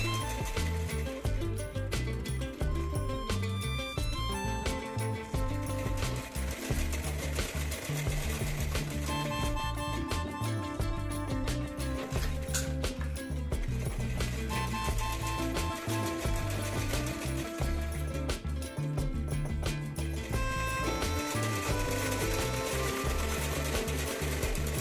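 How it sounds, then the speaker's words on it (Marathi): Sewing machine stitching around a dress neckline with a half-inch seam margin, a steady continuous rhythmic clatter that runs the whole time, close and fairly loud. "आता इथे अर्धा इंच होईल एवढी शिलाई मार्जिन ठेवून आपल्याला व्यवस्थित गळ्याच्या आकारामध्ये शिलाई"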